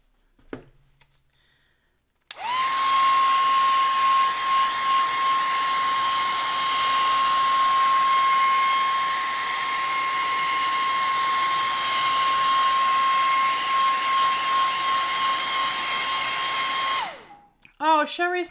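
A hair dryer blows loudly and steadily with a constant high whine, drying paint, switching on after a brief pause and cutting off near the end.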